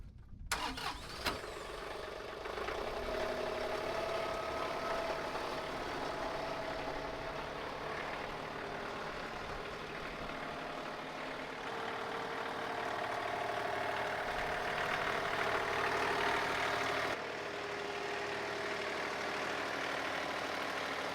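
A tractor engine idles steadily while driving the PTO of a Woodland Mills WC68 wood chipper, a continuous mid-pitched drone that follows a brief start-up burst and holds nearly constant throughout.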